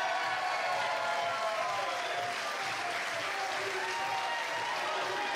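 A wrestling crowd at a Maria Manic versus Chris Dickinson match cheers and applauds in a dense, loud, unbroken roar of clapping that holds steady throughout.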